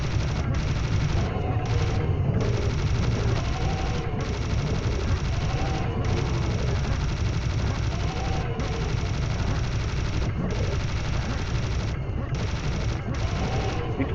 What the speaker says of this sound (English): Chain gun's faster.